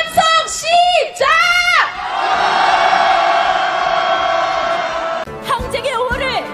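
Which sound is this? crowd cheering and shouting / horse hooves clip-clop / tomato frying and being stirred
crowd cheering and shouting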